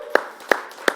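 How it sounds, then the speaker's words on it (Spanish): Three sharp, evenly spaced hand claps ring out close and loud in a church, with a brief pause between each and no talking. "¿Cuántos pueden darle un aplauso a aquel"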